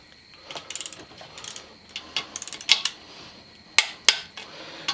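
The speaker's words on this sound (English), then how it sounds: "now that I've run them all down, now we'll torque them" Ratchet of a torque wrench clicking in quick bursts while bolts are tightened on a 1993 Pontiac during final assembly, close and crisp, with sharp louder click-clacks near the end.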